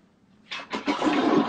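A toilet is flushed as a prank to dispose of a fake jewelry chain; after a quiet start, a loud rushing swirl of water surges in and keeps roaring close by, with no talk over it.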